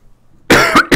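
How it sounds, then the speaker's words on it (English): A single loud, close cough into a microphone during a Minecraft TerraFirmaCraft gameplay session, sharp burst followed by a second shorter hack, after near silence. "I should probably mute my mic when I cough"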